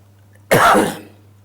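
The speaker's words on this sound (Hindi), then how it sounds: "आज खांसी ज्यादा हो रही है दोस्तों," A man in Delhi NCR gives a single harsh, throaty cough, loud and close, that fades quickly into quiet.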